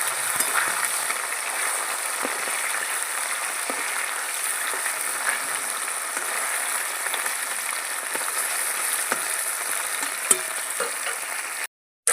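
Bata fish fry in a pan over a mango-wood fire and are flipped, with a steady fine sizzling crackle and occasional sharp pops that cuts out just before the end.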